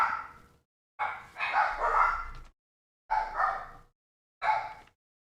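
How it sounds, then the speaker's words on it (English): Dogs bark in several separate bursts with short pauses between, somewhat distant and echoing, each burst a cluster of barks. "You hear the dogs."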